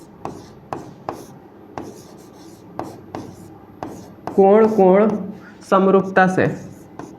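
Chalk or marker tapping and scraping on a board while a maths problem on similar triangles is worked out, with short regular strokes and a teacher speaking over the writing.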